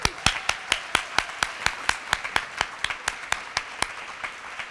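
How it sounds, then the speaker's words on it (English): Closing round of applause at the Tennessee Teacher of the Year ceremony: sharp, evenly spaced claps ring out one after another, sounding like a few hands near the microphone more than a full crowd, with no talking. "one last round of applause"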